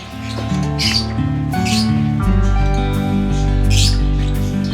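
Chattering squawks and chirps from a group of African lovebirds feeding on moringa leaves, steady and close, layered over a continuous tonal hum in the background.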